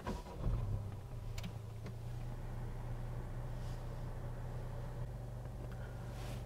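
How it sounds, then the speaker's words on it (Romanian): A Honda Civic 1.5 VTEC Turbo engine starts with a brief rise and then settles into a steady, low, even idle that continues for several seconds with no speech. "O să pornesc și motorul."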